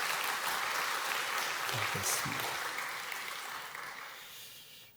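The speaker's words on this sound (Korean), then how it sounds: "우리 여전도 협의회 우리 격려 박수로" A church congregation at a Wednesday worship service gives encouraging applause to the women's mission society after a hymn, a dense wash of clapping that slowly fades out toward the end, with a brief voice partway through.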